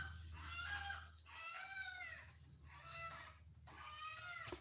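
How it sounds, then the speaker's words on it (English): A chicken clucks and squawks loudly in four drawn-out, harmonic bursts with short gaps, close by and alone over low background hum, in Kenya. "Let me see this chicken."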